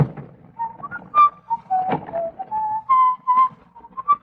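A person whistles a loose, wandering tune of short and held notes, close and clear, with a couple of faint knocks in the background and no talking.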